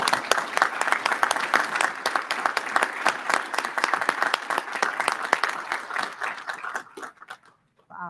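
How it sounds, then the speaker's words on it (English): Sustained applause from the audience at a university presidential inauguration ceremony, dense clapping from a large crowd for about seven seconds before thinning out and fading. "Please join me in a round of applause for all of the individuals who shared their greetings"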